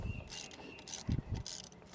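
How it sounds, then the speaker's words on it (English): Ratchet with a 7/32 socket loosening long bolts on a GM 3800 engine, a few short bursts of mechanical clicking and clunks close by with brief gaps between them. "Now I'm going to be using a 7/32 socket."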